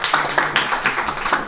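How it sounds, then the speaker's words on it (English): Clapping from a classroom audience applauding performers in an English speaking activity: quick, close, rhythmic hand claps at a steady pace, a short burst with no voices over it. "Clapping for them, please,"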